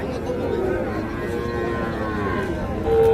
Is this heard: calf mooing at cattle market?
yes